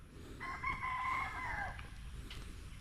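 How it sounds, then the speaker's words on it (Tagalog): A rooster crows among hens on a small farm, a single fairly faint crow of about a second and a half over a low outdoor background rumble. "Yung mga inahin natin dyan oh. Tsaka may lalaki na isa."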